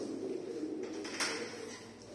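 Pigeons cooing softly inside a loft housing several males, including blue and crested blue birds, a steady low murmur of coos running throughout with a brief rustle near the middle.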